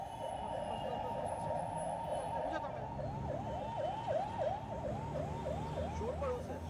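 An ambulance siren wails in repeated rising-and-falling cycles as it travels the wrong side of a road through Indian traffic, moderately distant over a low rumble of engines and street noise.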